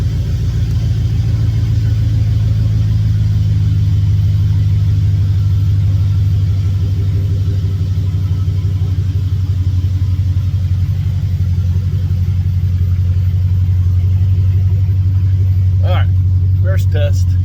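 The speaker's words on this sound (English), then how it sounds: "first drive with the new shocks" A Ford Crown Victoria with new shocks, wheel spacers and a 2.5-inch lift driving along, heard from inside as a loud steady low engine and road rumble, with a few brief sharp knocks near the end.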